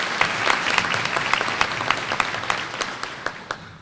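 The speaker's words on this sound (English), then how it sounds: "Please give a warm round of applause to Rachel Childs." An audience at a queen's luncheon and fashion show gives a round of applause, with dense steady clapping and sharper individual claps standing out as it gradually thins.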